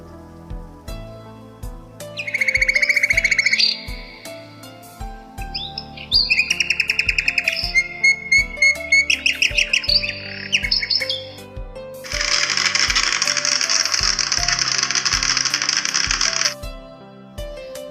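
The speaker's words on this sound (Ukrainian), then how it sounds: "Давайте послухаємо, як гарно і красиво співає соловей, а також зищить жук." A nightingale sings in several bright bursts of trills and chirps over a steady rhythmic backing beat, followed by a long, loud buzzing drone from a beetle.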